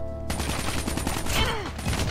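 A sniper rifle fires without a scope in Call of Duty Mobile, one sharp shot breaking in over a busy mix of close gunfire and game effects that carries on to the end.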